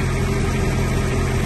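A 1960 Citroen ID19 engine runs at a steady idle, a loud continuous rumble close by with no breaks or revs.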